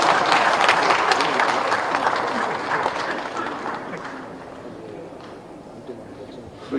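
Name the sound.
audience applause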